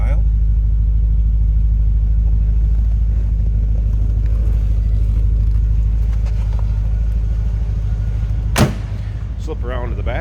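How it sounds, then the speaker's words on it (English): The LT1 V8 of a 1994 Chevrolet Corvette idles with a low, steady exhaust rumble heard from the rear, joined near the end by a sharp knock and a short burst of talking. "Like I said, nice little rumble coming out of that LT1."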